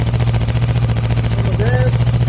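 A Kawasaki Vulcan S 650 motorcycle with a modified exhaust runs at close range, a loud throbbing engine pulse that swells briefly with a rev.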